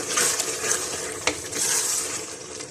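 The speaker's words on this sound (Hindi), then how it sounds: "तीन से 4 सब्ज़ मिर्चें डाल दें और अच्छा सा गोश्त को भून लेंगे" Mutton sizzles and fries in a hot pan with green chillies for achar gosht while a spoon stirs it, a steady close crackle with one sharp scrape of utensil against the pan partway through.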